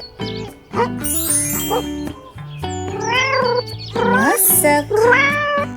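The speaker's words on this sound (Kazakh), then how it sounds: "Мысық." A cat meows several times, loud and close, its drawn-out rising and falling cries layered over a soft background tone and a brief tinkling chime.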